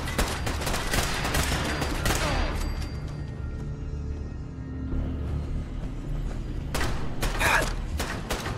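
Gunfire in the video game Fallout 4, bursts of rapid shots and thuds in the first couple of seconds, a quieter lull, then another loud volley near the end.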